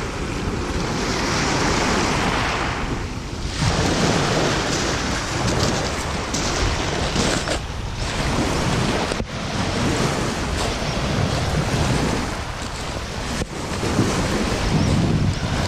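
Sea waves wash onto a rocky shore at dawn, a loud continuous roar of surf mixed with heavy wind buffeting the microphone, swelling and easing in broad surges.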